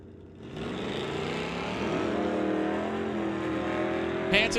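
At an NHRA Summit ET drag strip, a Plymouth and a Malibu sportsman drag car make a pass, a steady loud engine roar that climbs in pitch as they accelerate, heard from a distance.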